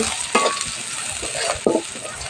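Chopped onions sizzle steadily in a hot pan while a spatula stirs and scrapes them, with a couple of sharper strokes against the metal, close and unaccompanied by talk.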